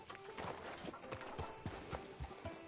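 Horse hooves clip-clop at a steady walking rhythm in a Western video game set near a sheriff's office, heard moderately close over a faint ambient game soundtrack, with no talk.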